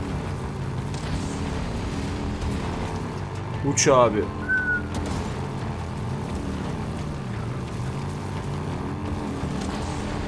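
Motorcycle engine in the zombie survival game Days Gone, a steady low droning hum with wavering pitch running throughout under a voice, with a brief whistling sweep near the middle.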